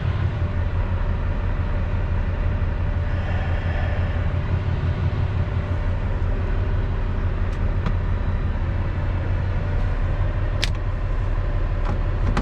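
A Volvo A40G articulated hauler drives and parks in Lively, Ontario, heard from inside the cab as a constant heavy, low engine rumble, with a few faint clicks and squeaks over it.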